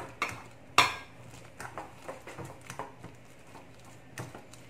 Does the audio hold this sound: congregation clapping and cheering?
no